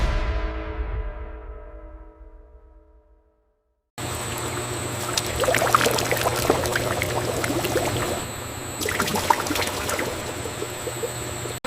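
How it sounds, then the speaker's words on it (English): Creamy milk base pouring and flowing on a modern milk tea factory line, a steady close liquid rush that cuts in abruptly after a fading ring and silence, continuing evenly with mechanical hum underneath. "Our creamy milk base flows, ready to harmoniously meet the rich tea."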